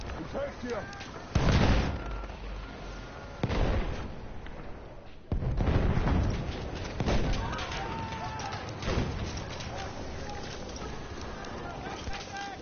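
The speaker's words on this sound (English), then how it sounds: "Whoa, so many grenades." Repeated booming grenade explosions in the war game Frontlines, several loud bursts spaced a few seconds apart amid constant gunfire and someone talking over the chaos.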